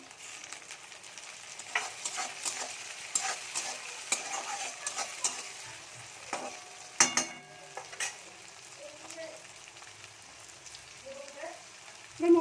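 Tomatoes are added to well-browned grated onion frying with cumin and chili powder, making a quiet, soft sizzle broken by intermittent stirring clicks and scrapes from a spoon in the pan.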